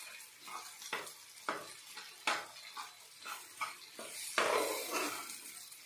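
Baingan bharit, a Marathi roasted eggplant mash, being stirred and mixed with spices in a pan, giving repeated scraping and clinking strokes with a soft sizzle underneath. It is close and moderately loud, with no voices.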